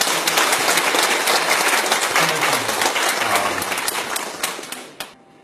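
A hall audience at a conservative political talk concert gives a guest professor a loud, dense round of applause that holds strong, then thins and tapers off with a few last claps near the end.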